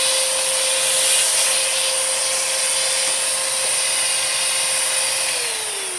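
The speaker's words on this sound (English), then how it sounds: "It's just a loud vacuum, of course." A Hoover Nano-Lite compact bagless vacuum cleaner runs steadily and loudly with a constant high-pitched whine and broadband airy roar, pitch dipping slightly near the end.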